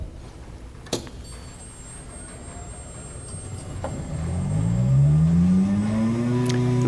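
An Atlas Copco GA VSD+ air compressor starts up, its motor tone rising in a steady ramp as it spins up. A few sharp clicks come before the swelling hum, and nobody speaks.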